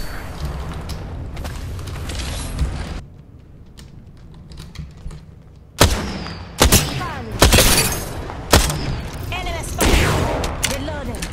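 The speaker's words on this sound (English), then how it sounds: "Did you just shoot him with a shotgun?" Shotgun blasts in Apex Legends, several sharp loud bangs fired in an irregular burst after a quieter stretch, cutting through busy game noise.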